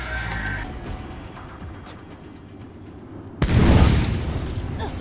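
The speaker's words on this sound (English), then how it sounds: "Rocket launcher shotgun." A rocket launcher shotgun fires in the video game Borderlands: one heavy, booming blast with a rumbling tail, following a quieter stretch of low game ambience and scattered small sounds.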